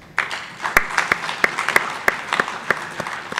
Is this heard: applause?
yes